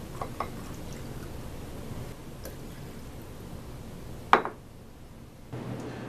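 Water is poured into a cocktail of cherry liqueur and ouzo: a steady soft splashing pour that ends with a sharp clink, then a quieter pause.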